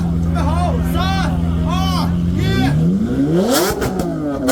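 A Lamborghini and a BMW M4 rev against each other in a rev battle, engines rising and falling in loud sweeping pitch bursts over a steady idle drone while a crowd murmurs and cheers nearby.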